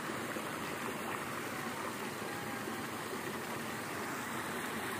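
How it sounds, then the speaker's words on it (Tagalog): Water from Kataw Falls flows steadily down a stream in rainy farmland, making a constant broadband rush with no breaks and no voices. "itong tubig na to guys, galing yan sa Kataw Falls, doon sa taas"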